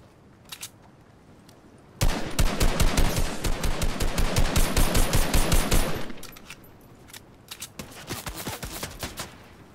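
Dense bursts of rapid automatic gunfire from Fortnite, a sustained loud volley of several seconds between shorter scattered shot clusters, with no talking.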